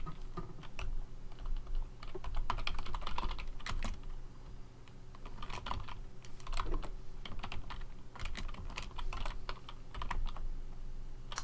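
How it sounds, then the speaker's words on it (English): Rapid typing on a computer keyboard during a lecture, with a near, continuous clatter of keystrokes in uneven bursts and short pauses, and no talking. "You can hear me typing"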